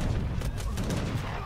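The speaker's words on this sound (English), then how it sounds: "We have a ton of cannons. Shred them." Cannon volleys in an Age of Empires 3 campaign battle boom and rumble continuously, dense overlapping blasts that form a heavy, sustained barrage.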